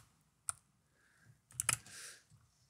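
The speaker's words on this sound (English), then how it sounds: "these two keys are actually just the upper arrow and the lower arrow keys" Up and down arrow keys are pressed on a computer keyboard at a terminal, giving a few faint, sharp clicks: one isolated tap, then a quick cluster of clicks in a quiet room.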